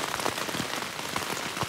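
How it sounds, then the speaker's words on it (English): Steady soaking rain drumming on a tent on a hiking trip, a close, continuous patter of many drops with faint individual taps, heard alone without voices. "this kind of like steady soaking rain, there's really no defense against it"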